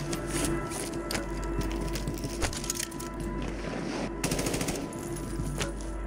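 Rapid bursts of AMR9 submachine gun fire in the shooter game Warzone 3, repeated volleys over dense background game noise and ambient rumble, fairly loud and continuous.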